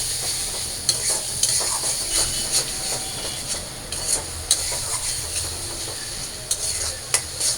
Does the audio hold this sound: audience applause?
no